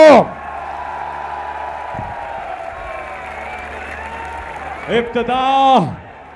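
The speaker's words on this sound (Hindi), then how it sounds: "एक बार हाथ उठाकर तालियों की गूंज में बताइए कि इमरान खान से कितना प्यार है आपको।" Crowd applause and cheering at a PTI political rally for Imran Khan in Sargodha: a sustained roar of many hands and voices, swelling again near the end.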